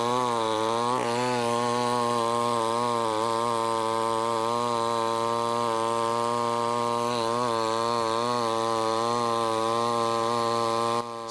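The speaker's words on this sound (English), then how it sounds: "Stihl chain saws are equipped with a chain stop system designed to reduce the risk of injury in certain kickback situations." A Stihl chainsaw cutting wood during logging runs loud and close, its engine whining at a high, steady pitch that wavers slightly as the chain bites, with no voices.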